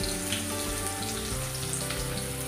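Onions frying in oil with cumin seeds for a crab gravy, a steady close hiss of sizzling with faint crackles throughout, no voices.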